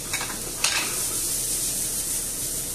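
Finely chopped onion and red pepper sizzle steadily in a pan for a one-pan chicken and rice dish, a constant close hiss with a couple of brief stirring scrapes near the start.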